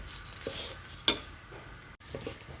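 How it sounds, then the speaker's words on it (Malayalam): Chammanthi podi, a dry coconut chutney powder, stirred as it fries in a pan, with a soft steady sizzle and faint scraping strokes close up, quiet and without talk. "25 മിനിറ്റോളം ഞാനിപ്പോൾ ഇളക്കിയിട്ടുണ്ട്."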